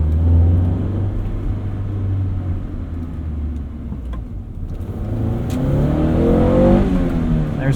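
A 1993 Honda Prelude Si with a five-speed manual revs up from inside the cabin, the engine note climbing into a harder, rising wail as VTEC engages, loud and close with no talking.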